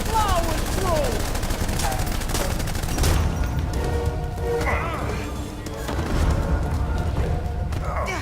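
Gunfire in the crime game Blues and Bullets, sharp shots and bursts scattered across the scene, mixed with character voices talking and shouting over the shooting.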